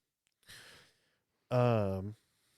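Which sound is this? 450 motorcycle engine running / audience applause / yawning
yawning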